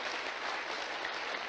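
Applause from an audience at a network marketing motivational talk, a steady dense wash of many hands clapping with no clear gaps, moderately loud and heard alone.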